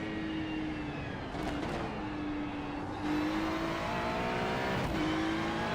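A Mazda MX-5 race car engine in the iRacing simulator drones steadily at high revs, its pitch dipping slightly for shifts and then climbing again, loud and continuous with no talk.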